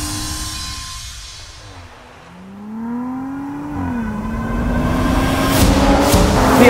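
An Audi RS5 on Michelin Super Sport tires drives hard, its engine note rising and dipping through gear changes and growing louder and more aggressive as it accelerates, with tire and wind noise building toward the end.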